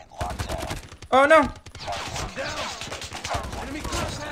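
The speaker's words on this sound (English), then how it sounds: "Oh, thank God you kept shooting." Gunfire from the mobile shooter game Call of Duty Mobile, with a KN44 rifle set up as an SMG: rapid bursts of shots run through the clip under game sounds and a player's voice, which cries out once.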